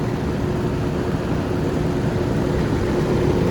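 A 2005 Rheem Classic air conditioner runs with a steady, broad whooshing roar and a faint low hum, unchanging and fairly close.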